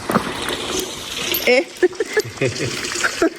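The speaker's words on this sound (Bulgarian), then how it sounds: "Буквално чувате само водата." Cold water running into a small sink at a mountain hut, an irregular trickle and splash close by, with brief voices in the background.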